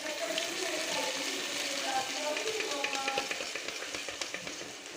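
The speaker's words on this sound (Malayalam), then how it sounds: "നമുക്ക് വറവിട്ടത് ഇതിലേക്ക് ഒഴിച്ചു കൊടുക്കാം." Hot tempering with curry leaves poured into a chicken stew: a loud, continuous bubbling sizzle with a watery crackle that slowly eases off.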